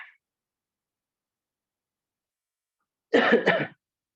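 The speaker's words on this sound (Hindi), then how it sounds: "बस थोड़ा खांसी है, फिर भी मैं साहस कर रहा हूँ" A faint sound at the very start, then after a long silence a short throat-clearing cough, close and isolated.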